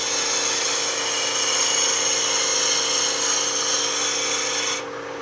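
A wood lathe spins a spindle block at about 1,500 RPM for a finish cut, producing a steady, close whirring and rubbing hum that cuts off abruptly near the end.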